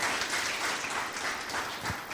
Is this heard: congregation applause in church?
yes